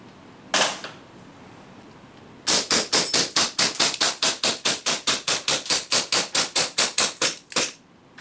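A BB gun being fired through a full competition magazine: one shot, a pause, then a rapid even string of about twenty sharp cracking shots, loud and close, ending with one last shot.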